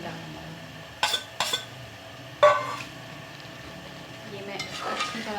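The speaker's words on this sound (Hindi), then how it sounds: "अब मैं इसके अंदर ये जो कीमा है ये कीमा डालूंगी और इसको अच्छी तरह भून लूँगी कीमे को।" Minced meat (keema) fries in spices in a pan under a soft sizzle. A spoon scrapes and clinks against the pan in several sharp bursts while stirring, with no talking.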